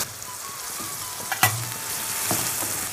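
Ginger-garlic paste sputters in hot oil for achari murg, a steady close sizzle with a sharp crackle and a couple of soft knocks partway through.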